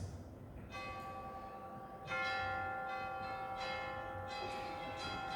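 Church bells toll slowly and steadily, several strikes ringing out one after another with long sustained overtones, moderately distant over a soft background hiss.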